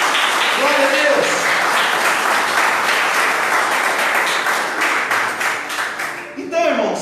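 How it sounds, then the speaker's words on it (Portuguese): A church congregation claps loudly for Jesus during a family service, dense sustained applause with voices mixed in that tapers off near the end before a brief final burst. "Você pode aplaudir o nome do Senhor Jesus por isso?"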